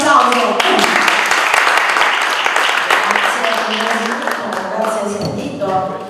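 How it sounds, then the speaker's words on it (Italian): Steady applause from an audience at an Italian talk held at an archaeological park, a dense sustained clatter of many hands with a voice speaking over it near the end. "Facciamo un applauso."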